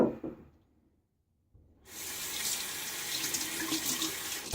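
Cold hard water runs from a tap during a wet shave, a steady close hiss of water that starts after a brief quiet pause.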